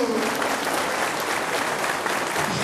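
Applause from delegates at a congress hall address, a thick, continuous roar of many hands clapping, steady and fairly loud throughout.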